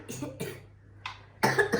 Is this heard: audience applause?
no